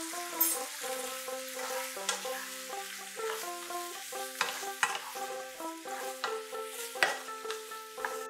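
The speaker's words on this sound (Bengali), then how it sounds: "টমেটোটা আমার অনেকটাই মজে এসছে, আর একটু কিছুক্ষণ নাড়াচাড়া করব" Tomatoes for a traditional Bengali tomato chutney stirred and frying in a pan, with a soft sizzle under repeated scraping strokes and sharp utensil clicks against the pan, set against a steady melodic background.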